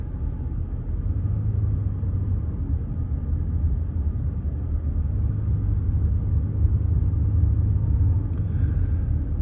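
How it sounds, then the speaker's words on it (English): Steady low rumble of city traffic heard from inside a Las Vegas taxi near the Strip, a constant muffled road and engine drone with no talk. "Traffic."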